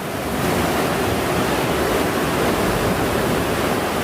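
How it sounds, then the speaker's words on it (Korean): Loud, continuous roar of ocean surf crashing and churning inside a sea cave in southern Tanegashima, a dense wash of noise with no pauses, booming and echoing in the enclosed space. "파도 소리가 엄청 울려가지고"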